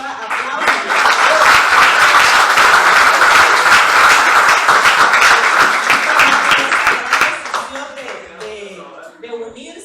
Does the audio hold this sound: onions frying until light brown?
no